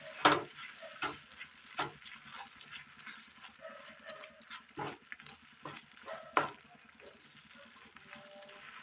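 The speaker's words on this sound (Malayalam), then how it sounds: "കറിവേപ്പില നന്നായി ഒന്ന് ഇളക്കിയെടുക്കാം." Egg curry with ground tomato and curry leaves being stirred in a pan, soft irregular scrapes and thumps of the spoon with faint sizzling between them, quiet and close.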